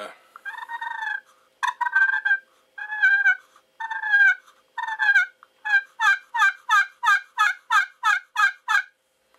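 A DB Custom titanium turkey call gives a run of throaty, raspy yelps: about five long drawn calls, then a quicker train of roughly a dozen short clucking notes. They sound loud and close, with no voices.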